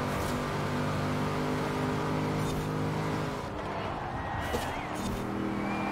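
Cars race in Forza Horizon 4 as one overtakes another, a steady engine drone with rising revs and a faint tire squeal partway through, close and continuous.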